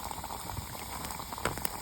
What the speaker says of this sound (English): A little bit too much water on my chili, so I'm letting it boil off a little bit.